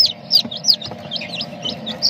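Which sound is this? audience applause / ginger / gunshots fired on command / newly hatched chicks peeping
newly hatched chicks peeping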